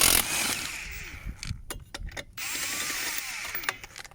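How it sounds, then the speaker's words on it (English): A power impact tool or drill removing the wheel lug nuts from a vehicle during a grease swap service, with bursts of whirring and rattling, short pauses between them, and a change in pitch as the nuts spin loose, close and loud. "step two is take off all the lug nuts"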